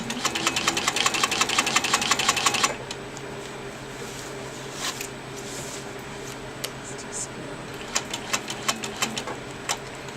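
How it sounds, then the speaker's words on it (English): A home sewing machine free-motion stitching fabric, a loud, fast steady needle clatter for a few seconds that stops abruptly, followed by quieter room tone with scattered clicks and short bursts of stitching. "if your machine stitches better just going in the front direction instead of going sideways too"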